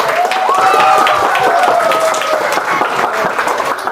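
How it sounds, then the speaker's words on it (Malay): An audience at a school science showcase claps steadily for two children, with a voice briefly audible over the applause for a few seconds. "Okey, tepuk tangan untuk diorang dua ni."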